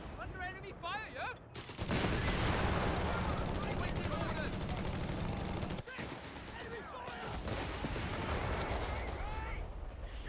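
Battle gunfire and explosions in Company of Heroes 3, a sustained loud barrage of mixed shots and booms with brief lulls, with a voice talking over it.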